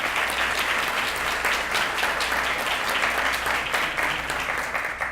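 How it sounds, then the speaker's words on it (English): Sustained applause from a sizable crowd at a school district Teacher of the Year luncheon, steady and dense clapping for board members that fills the room without pause for several seconds. "one more round of applause for our board members"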